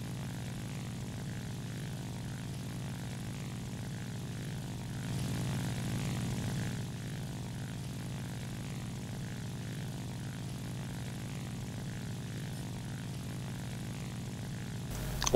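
A de Havilland Mosquito propeller aircraft in a video game drones steadily as a low, faint, continuous engine hum, swelling slightly for a couple of seconds midway, with no talk.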